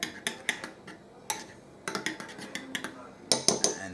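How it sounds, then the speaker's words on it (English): A spoon stirring ingredients into pizza sauce for a Hawaiian pizza, irregular close clinks and scrapes against a bowl in short bursts with brief pauses. "Keep stirring until all the ingredients are blended in with the"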